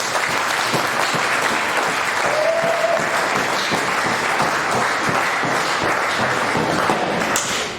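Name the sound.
audience applause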